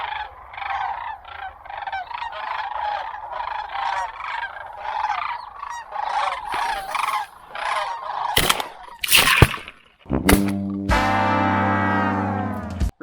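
A big flock of geese coming in during a waterfowl hunt in Saskatchewan, with steady repeated honking from many birds, then loud sharp gunshots close by, followed by a long tonal call.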